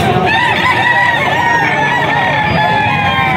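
Full stag gamecock, a large gray rooster with green legs, crowing loudly and close in one long, drawn-out call with clucking textures, over faint background noise.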